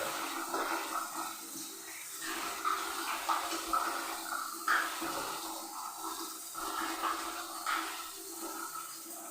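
Water splashes and pours during bathing, a continuous gushing wash with small surges and drips, fairly close and moderately loud.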